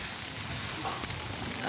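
Rain falls outdoors on a wet day as a steady, dense hiss of drops. It stays at an even level, with a few louder patters near the end.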